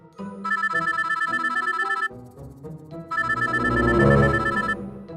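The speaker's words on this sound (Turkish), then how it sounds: "Düşündüğümüz gibi telefonu sessize almayı unutmuş" A mobile phone left off silent during a game of hide-and-seek rings with a bright, repeating electronic ringtone melody in two long bursts with a short break, loud and close, with no talk over it.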